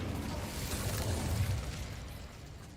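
Incendio fire spell from the Hogwarts Legacy video game: a steady roaring, crackling burst of flame that holds for nearly three seconds at moderate level, with no talking.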